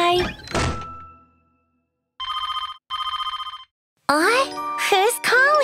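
Two bursts of an electronic telephone ring sound in a kids' cartoon, preceded by a thunk and followed by a cartoon character speaking.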